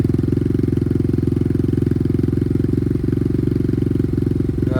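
An Apollo RXF 125 dirt bike engine idles steadily up close, a loud, even low-pitched putter with rapid regular firing pulses and light mechanical clatter, running alone with no talk.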